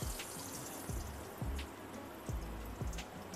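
Water drains off soaked mustard seeds, a soft continuous trickle with a few small splashy drips and gurgles, close and quiet.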